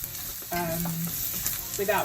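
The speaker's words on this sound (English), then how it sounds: "So I'm just frying down my onions" Onions fry in a pan with a continuous sizzle, plus occasional scraping and stirring clatter, close up and fairly loud.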